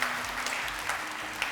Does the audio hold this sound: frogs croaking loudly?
no